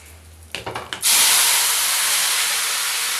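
Tomatoes dropped into hot oil with asafoetida for tomato thokku: a few quick clattering knocks, then a sudden loud, broad hissing sizzle that bursts up and holds steady, very close, no speech.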